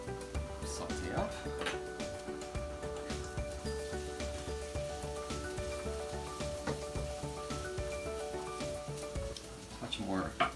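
Shiitake mushrooms sauté in a pan, a steady close sizzle under a constant wash of harmonic background music, with a few sharper stirring clatters near the start and end.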